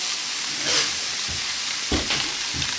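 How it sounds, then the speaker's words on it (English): Sauce hits a pan of cooked broccoli in a stir fry, and a loud, steady sizzle and hiss fills the space, with a few stirring scrapes and bursts of spitting. "Then we're going to add our sauce"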